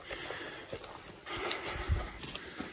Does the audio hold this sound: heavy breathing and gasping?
no